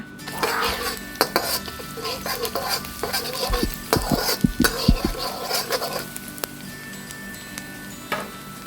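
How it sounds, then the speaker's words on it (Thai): Oil sizzles steadily in a pan as chopped garlic and shallots are stir-fried, a utensil stirring and scraping, with several sharp clanks against the pan in the middle. "น้ำมันลงไปแล้วก็หอมสับกระเทียมสับใส่ลงไปเลยค่ะ ผัดให้เหลืองหอมเลยนะคะ"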